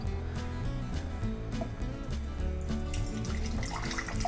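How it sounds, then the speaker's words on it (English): Water splashes and trickles steadily into a container while a summer drink is being made, a continuous close pouring sound with a few small drips. "So what you will do, you will pour in some water."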